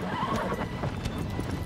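Horse hooves clip-clop at a steady gallop in Shadow of the Colossus, the rhythmic beats close and continuous with an occasional whinny over a windy desert backdrop, and no talking.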